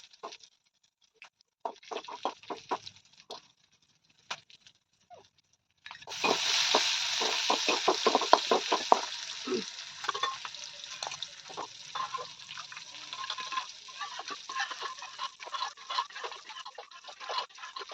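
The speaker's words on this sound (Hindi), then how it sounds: "हरी मिर्ची और लाल मिर्ची का छौंका दे दिया है" Scattered crackles give way to a sudden burst of loud sizzling as green and red chillies hit hot oil in a thin kadai, then a steady spitting fizz with popping crackles continues.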